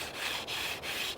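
A wooden spindle spun between the palms on a wooden fireboard for hand drill fire-starting gives a steady, close rasping friction with brief dips as the hands reverse direction, roughly three strokes, no voices.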